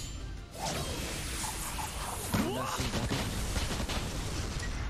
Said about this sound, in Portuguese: Só explosões.